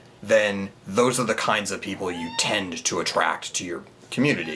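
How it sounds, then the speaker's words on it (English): A cat meows faintly in the background of a room while someone speaks continuously over it. "You hear a cat in the background."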